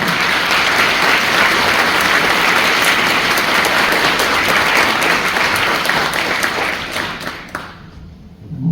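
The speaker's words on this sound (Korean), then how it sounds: "박수로 환영해 주시기 바랍니다" Loud, dense applause from a lecture-hall audience welcoming a university president, sustained steady clapping for about seven seconds before quickly fading out.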